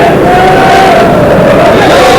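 Large crowd roaring at a 1990 Grimsby Town v Scarborough league football match, a big league crowd for the season: a loud, steady wall of cheering and chanting with no break, dense and continuous.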